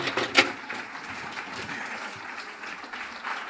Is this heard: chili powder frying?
no